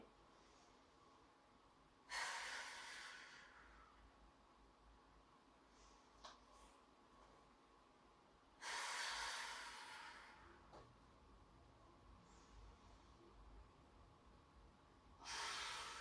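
Someone doing a gentle upper-body gym workout blows out forcefully three times, each breath a strong, close hiss lasting about a second, spaced several seconds apart over quiet room tone.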